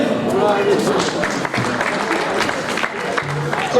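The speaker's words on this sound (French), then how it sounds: "On peut l'applaudir." Crowd applause at a bullfighting festival presentation of a banderillero, a moderate burst of clapping from an audience with voices audible over it.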